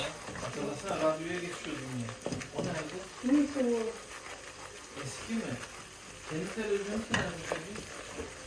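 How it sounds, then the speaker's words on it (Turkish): A spoon of flour is stirred and roasted with fried onions in a pan, giving a soft continuous sizzle and occasional scraping stirs, mostly under people talking nearby. "Birazcık unun kokusu çıkana kadar kavuruyoruz"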